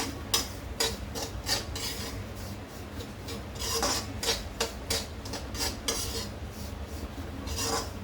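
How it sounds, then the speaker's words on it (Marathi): Semolina roasting on a low flame for rava besan laddu while a spoon scrapes and stirs it around the pan, giving repeated rasping strokes at an uneven pace, close and clear with no talk. "आपल्याला एकदम मंद वरती ठेवून रवा एकदम छान गुलाबीसर असा भाजून घ्यायचा आहे"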